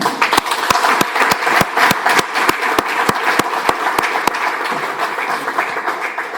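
An audience at a conference applauds steadily, with dense, continuous clapping and a few sharp, louder claps standing out through the first four seconds.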